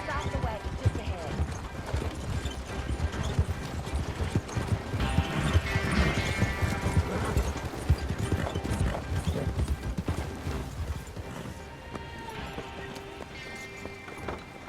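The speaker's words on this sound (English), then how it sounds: "Stop the wagon just ahead." Horse-drawn wagon rolling along in Red Dead Online, steady clip-clop of hooves with creaking, rattling wheels and an occasional whinny, running under people talking throughout.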